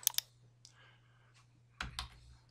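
A few sparse keyboard clicks and key taps on a computer while pasting a link, with a quiet pause between, ending in a couple of sharper clicks; steady low hum underneath.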